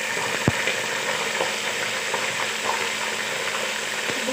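Onion paste frying in hot oil for beef curry gives a dense, continuous sizzle and hiss, close and loud, with a sharp clink near the start and faint stirring scrapes beneath.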